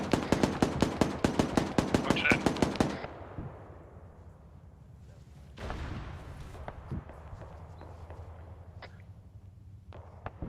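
Gunfire engaging infantry in the military game ArmA 3: a loud, rapid burst of automatic fire lasting about three seconds, then a lull, a sharp crack and scattered single shots trailing off.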